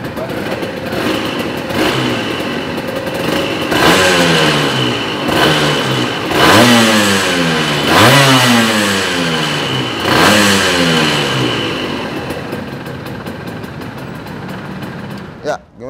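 A modified Honda NSR 150 SP two-stroke motorcycle engine being revved repeatedly, loud and close, with about five sharp rising-and-falling throttle blips over a ringing idle before it cuts off.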